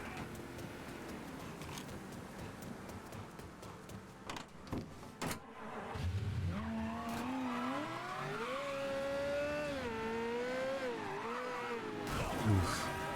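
A car in Mafia III slides under a sharp handbrake turn, loud tire squeal rising and wavering over engine roar for several seconds after some clicks and thumps, ending in an impact.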